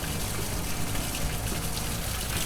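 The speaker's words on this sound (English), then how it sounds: "And then I'm going to turn both faucets on." Water gushes steadily from two laboratory faucets running to create suction for a filtration setup, a loud, continuous, close rushing hiss with no talk over it.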